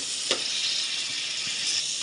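Chopped tomatoes with spices frying in a hot pan over a low gas flame, a steady close hiss broken by a couple of faint clicks of stirring, no voices.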